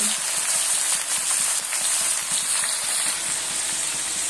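Chopped ridge gourd and potato fry in a pan, a steady, dense sizzle with faint scraping as the vegetables are stirred, heard close and without talk.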